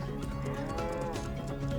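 Cattle on pasture moo loudly, and one long, low, drawn-out bellow fills the moment with no talk.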